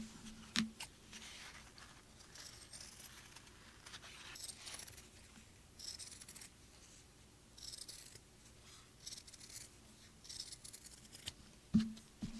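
Scissors snipping a fabric circle for a sewn cap, soft quiet cuts in a steady irregular series with faint handling rustle, no talk.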